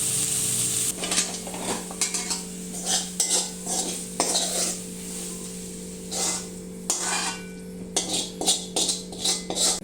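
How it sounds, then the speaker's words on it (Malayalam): A spoon scrapes and clatters against a pan while prawn roast is stirred to cook off its liquid, steady close stirring over a soft sizzle with frequent metallic knocks. "അതിൻ്റെ വെള്ളം ഒന്ന് ഡ്രൈ ആകാൻ വേണ്ടിയിട്ട് ഇന്ന് രണ്ട് മിനിറ്റ് നമുക്കിങ്ങനെ ഒന്ന് ഇളക്കി വയ്ക്കാം"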